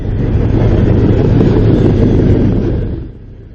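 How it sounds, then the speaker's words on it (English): A long freight train of oil tankers and other cars rolls past a desert lake road, a loud, steady rumble with wind buffeting the microphone, then falling away sharply near the end. "It must have taken at least 5 minutes for this train to pass."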